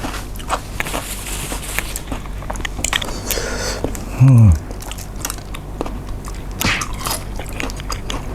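Crunchy bites and chewing of fried soft-shell crab cooked with a large amount of garlic, eaten close to the mic in short crisp bursts, with a brief voiced murmur partway through.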